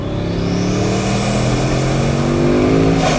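Bugatti Chiron W16 engine revving loud and close, a continuous rising roar as its sequential turbos switch from two to four, with a climbing whine near the end.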